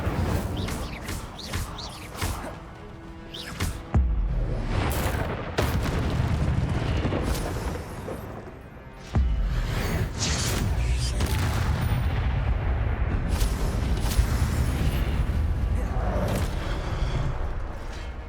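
Incendio fire spell blasts in Hogwarts Legacy, heavy booming bursts with roaring fiery rumble, loud and sustained with repeated surges over about eighteen seconds.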